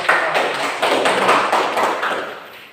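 A small student group in a classroom gets a short burst of applause, a few seconds of dense, close clapping that pulses in uneven waves and then tapers off.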